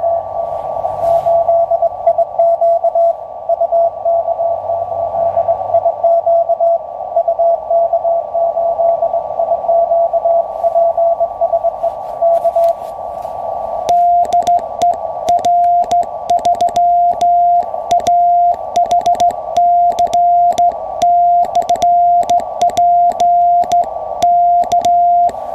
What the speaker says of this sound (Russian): Вот тут у К8 Иван Щука дает вызов